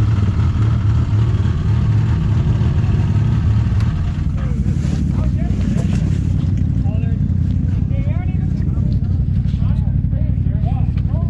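Engine of a Wildcat XX side-by-side running steadily with a smooth, even drone close by, while people talk over it throughout.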